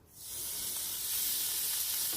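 Sirloin steak sizzles loudly on a hot Weber Performer grill, a continuous crackling hiss that starts suddenly and holds steady with no talking.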